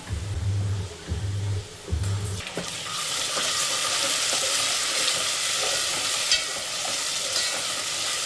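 Onion frying in oil with ginger-garlic paste for Maharashtrian chicken vade: a low hum and a few clinks at first, then a loud, steady close sizzle with spoon scrapes as stirring begins.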